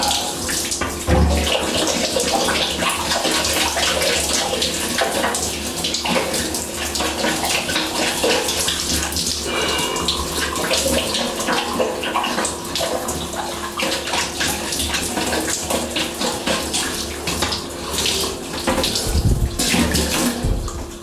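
Running shower water makes a steady, loud splashing rush that continues throughout with little change.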